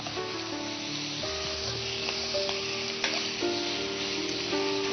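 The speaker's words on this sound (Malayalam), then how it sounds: "അപ്പം നമ്മുടെ മട്ടൺ ലിവർ ഇങ്ങനെ കുരുമുളകും പിന്നെന്താ ചെറിയ ഉള്ളിയും കറിവേപ്പിലയും എല്ലാം ആയിട്ട് കിടന്നിങ്ങനെ വഴണ്ടുകൊണ്ടിരിക്കുകയാണ്" Mutton liver sautéing in a pan with crushed pepper, shallots and curry leaves, giving a steady, close sizzle and fry with occasional faint stirring clicks.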